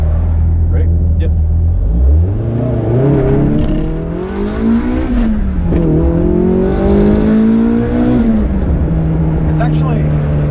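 A Toyota AE86 with a 4.7 differential launches hard off the line, its engine note climbing loudly through the revs with a brief dip at a shift before pulling up again, heard close from inside the car.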